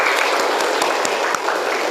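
Students in a classroom clap together during a lesson, a brief, fairly loud burst of brisk applause with a few distinct sharper claps.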